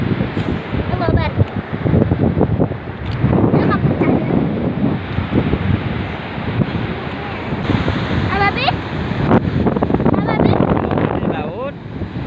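Sea waves wash in at a beach at Meunasah Drang, Muara Batu, a rushing surf with heavy wind buffeting the microphone, while several people talk and call out over it.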